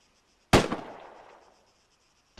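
A single sharp rifle shot fired from the prone position on a shooting range cracks loudly nearby and trails off in a decaying echo, with a second report starting just at the end.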